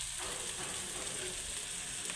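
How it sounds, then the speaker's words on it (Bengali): Prawns fry in oil with garam masala and meat masala powders, making a constant, even sizzle that stays quiet and unbroken from start to finish. "আবার অল্প পরিমাণে তেল দিয়ে দিচ্ছি, দিয়ে আবার আস্তে আস্তে ভালো করে ভাজতেই থাকবো।"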